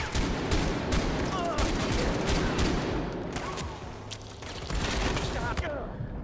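Dense, continuous gunfire in the video game Far Cry 4, rapid overlapping shots and bursts filling the whole stretch with little pause.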